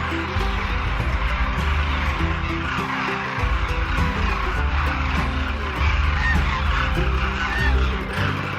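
A large flock of demoiselle cranes gathered at a winter roost in a Rajasthan village keeps up a dense, continuous chorus of loud honking calls with no break.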